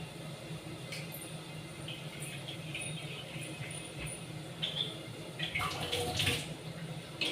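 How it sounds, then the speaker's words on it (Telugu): A water bottle being filled with water gives a faint, steady running-water hiss with a few brief clinks and rattles, heard at low level with no talking. "వాటర్ బాటిల్ ఇంకా నింపేసానండి."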